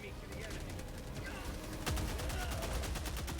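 Rapid automatic gunfire from the sci-fi shooter game Helldivers 2, fired at a towering Bile Titan: a dense, steady stream of shots that intensifies partway through, with a voice speaking over it.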